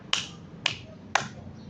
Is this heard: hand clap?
yes